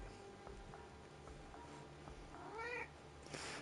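A house cat meows once, softly and close by, a short rising call over quiet room noise, with no one speaking.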